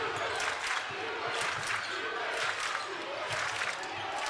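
A home crowd at a Vilonia versus Greenbrier high school basketball game cheers and chants in rhythmic surges, fairly distant, with commentators talking over it.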